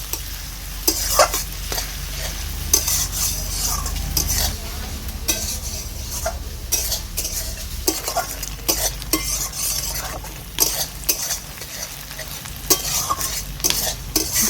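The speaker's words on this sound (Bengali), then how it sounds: "পেঁয়াজ কুচিটাকে আমি 2-3 মিনিট ভালো করে নেড়ে চেড়ে নেব।" Chopped onions sizzle and fry in a pan while a spoon stirs and scrapes them, with regular clinks and scrapes over a constant crackling hiss, close up.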